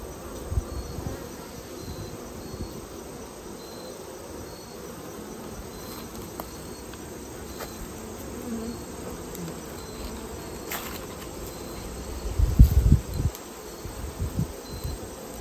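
Calm honeybees buzzing during a hive inspection, a steady, soft insect drone filling the air throughout, with a few close handling bumps and rustles near the end.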